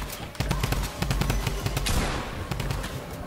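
Rapid bursts of gunfire in Fortnite, sharp repeated cracks in quick rhythmic volleys, loud and close, continuing across the whole stretch.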